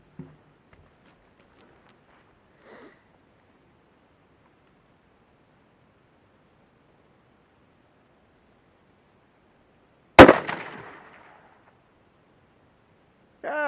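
A single sharp rifle shot from a Mossberg 800B firing 87 grain VMAX rounds at a range, loud and close, with a decaying echo after long near-silence and faint sounds beforehand.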